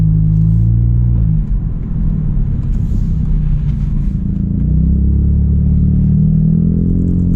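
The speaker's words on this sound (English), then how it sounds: "It's also a very fast car" A 2018 Honda Civic Sport, lowered with custom dual exhaust pipes, accelerates with a loud, close engine rumble and rising pitch through a gear change, with no voices.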